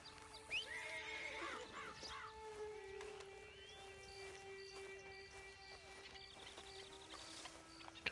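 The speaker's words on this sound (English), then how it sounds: "Then you better get on this horse." A horse whinnies loudly near the start in Red Dead Online, followed by softer snorts and chirpy game sounds over a quiet background.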